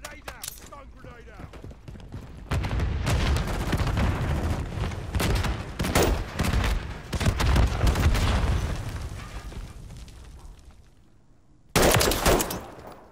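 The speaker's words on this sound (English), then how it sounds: "Grenade out. Stone grenade" Grenade blast and heavy gunfire from a first-person shooter video game, with loud bursts of machine-gun fire and booms running through most of the stretch, a quieter lull, then a sharp loud explosion near the end.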